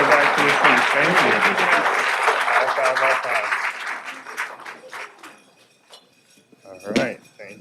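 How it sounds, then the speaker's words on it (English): Crowd applause at a Redondo Beach city council meeting, loud and dense from the start, thinning into scattered claps, then a brief voice and one last burst near the end. "let's get another round of applause"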